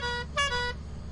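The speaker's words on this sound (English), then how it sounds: "One honk, yes. Two honks, no." A single bright honk from a horn in the video game Lethal Company, a harmonic tone with a brief louder burst in the middle, heard over a low rumbling in-game background hum.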